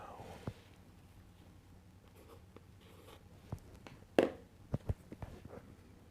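Pen writing on paper in a quiet room, faint scratchy strokes followed by a few distinct taps and scrapes, close and intimate in ASMR style.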